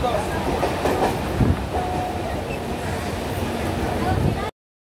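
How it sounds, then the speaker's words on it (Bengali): A suburban train from Sealdah to Barrackpore rumbles steadily from inside the carriage, with a continuous loud roar, faint rhythmic clatter and voices of passengers talking beneath it. "আমরা ট্রেনে উঠে পড়লাম"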